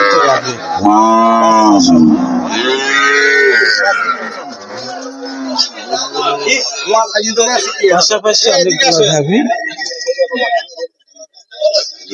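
Several cows moo loudly and close by at a cattle market in Baliapara, Kushtia, long low calls one after another, with a busy crowd murmuring and shuffling in the background.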